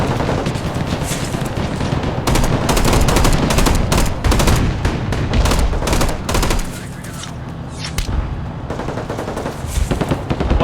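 Dense gunfire in the video game Broken Arrow, with rapid bursts of automatic fire and overlapping shots, loud and sustained, easing briefly before more bursts.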